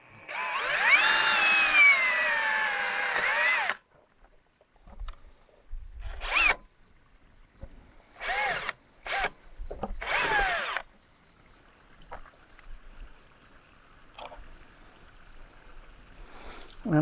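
A power drill driving a screw into a car's body panel, a loud, close whine for a few seconds, then several short bursts of drilling separated by quiet pauses.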